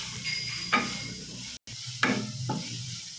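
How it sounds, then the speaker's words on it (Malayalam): Onion and green chillies sautéed with salt in a pan for Maggi noodles, a close frying hiss with a few spatula scrapes and one brief dropout midway. "സവാളയും പച്ചമുളകും ഒരു ലൈറ്റ് ഗോൾഡൻ ബ്രൗൺ ആവുന്ന വരെ നമുക്ക് നന്നായിട്ട് മിക്സ് ചെയ്ത് കൊടുക്കാം"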